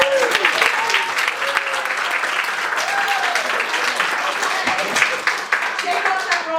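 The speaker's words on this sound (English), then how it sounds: "let's give a nice round of applause" An audience bursts into sustained applause at an improv comedy show, many hands clapping steadily and fairly close, with voices and a few whoops mixed in.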